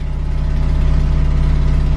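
A carbureted Fiat Cinquecento 700 engine fitted with a Fiat 126p carburetor idles low and steady just after its first cold start at minus 5 degrees, a close, even, throbbing pulse with no talk over it.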